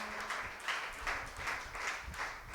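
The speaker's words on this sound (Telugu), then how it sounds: "సంతృప్తిని సమాధానాన్ని అనుభవించిన వారు గట్టిగా దేవుని చప్పట్లు కొడదామా?" Worshippers at Holy Mass clap in unison, producing an even, repeating rhythm of sharp claps that fills the room, with no talking over it.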